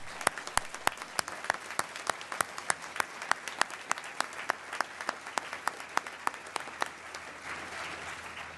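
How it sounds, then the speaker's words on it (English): Audience applause fills a graduate commencement ceremony, a steady wash of many hands clapping with sharp individual claps standing out, fading slightly near the end. "Let's give them a round of applause just right off the bat."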